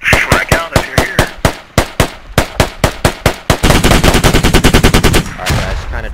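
Loud, close gunfire in the video game Squad starts as a string of evenly spaced single shots, then shifts into a rapid automatic burst before stopping.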